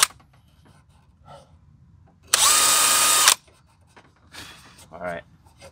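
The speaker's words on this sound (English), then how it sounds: "Pilot hole number one. This is fiberglass." A power drill bores a pilot hole in fiberglass on a Jeep XJ grille, one loud, steady whirring burst of about a second standing out against quiet surroundings, with faint talk and shuffling before and after.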